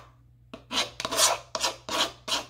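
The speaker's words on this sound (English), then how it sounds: "I'm scraping all of it" Duke's mayonnaise is scraped out of a measuring cup in five quick, rhythmic scraping strokes, close and clear, with no talking.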